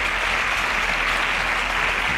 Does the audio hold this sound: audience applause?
yes